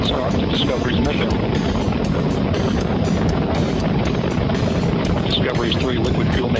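Space Shuttle Discovery lifts off, its three liquid-fuel main engines producing a heavy, unbroken roar with deep rumbling low end and crackling texture, steady and loud for the whole stretch.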